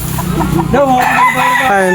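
Rooster crowing loud and close in a rural Philippine province setting, a single drawn-out cock-a-doodle-doo rising and holding over faint background noise.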